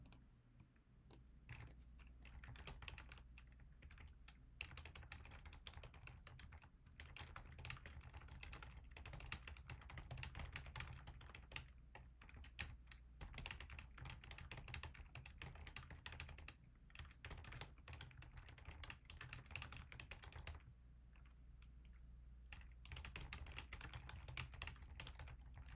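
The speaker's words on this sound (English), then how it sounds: "Let's do a little type here. Quick Google search." Fast, steady typing on a computer keyboard, close and fairly quiet, with irregular bursts of key clicks and brief pauses.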